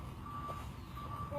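Truck reversing alarm beeping in a few faint, evenly spaced tones over a steady low background rumble, with no talking.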